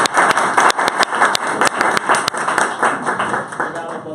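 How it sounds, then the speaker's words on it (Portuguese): Audience clapping at the close of a Portuguese-language talk on fake news and the 2018 elections, a dense patter of hands with sharp individual claps standing out, sustained throughout with some speech-like sound mixed in. "pedi uma salva de palmas"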